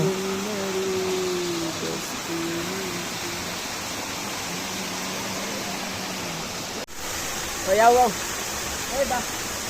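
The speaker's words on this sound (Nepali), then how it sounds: "वाटर बगेको साउन्ड सुन्दा कस्तो राम्रो लाग्छ कि आफूलाई, शान्त फिल हुन्छ।" Continuous rushing of a cold stream at Nagarkot fills the scene, with a person talking over it at moderate distance.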